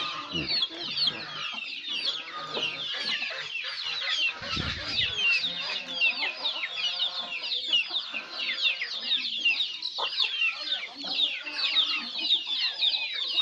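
A flock of chickens on a farm clucks and chatters busily at feeding time, dense overlapping calls close by and continuous.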